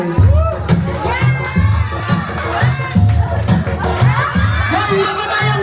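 Crowd at a company Christmas party cheering and shouting loudly, with high excited voices and whoops rising and falling continuously throughout, a steady bass-heavy beat thumping underneath.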